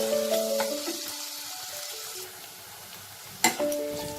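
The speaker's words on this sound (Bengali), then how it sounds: "পেঁয়াজটা আমি হালকা ট্রান্সপারেন্ট হওয়া অবধি ভেজে নেব।" Onions frying in oil in a pan for paneer bhurji: a soft, steady sizzle under sustained ringing chime-like tones, with a brief sharp clatter near the end.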